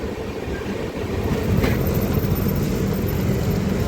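A train rumbles at Katpadi Junction station, a loud, steady low roar that swells slightly partway through, with no talking.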